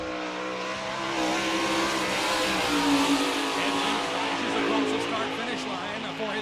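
A sprint car with a J&J chassis and Kreiner racing engine revs hard and loud as it begins qualifying on a half-mile speedway, the sustained high engine roar rising and holding steady with faint tire noise.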